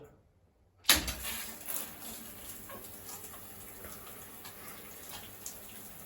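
A Triton electric shower switched on by its pull cord starts with a sudden burst, then runs as a steady hiss of falling water that continues evenly to the end.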